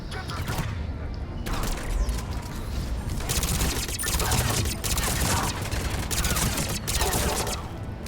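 SMG fire in the video game Mass Effect 3, sustained rapid bursts rattling almost continuously with brief breaks, loud and close over layered combat effects.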